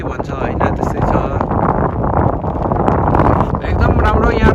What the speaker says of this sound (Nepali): यहाँ चाहिँ यस्तो चिसो हावा चल्ने रहेछ